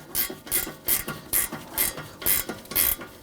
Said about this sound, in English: Now I'm just going to snug down the ball joint nut.